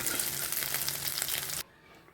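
Chops fry in hot oil with a steady, bright, hissing sizzle that cuts off abruptly after about a second and a half, leaving near silence.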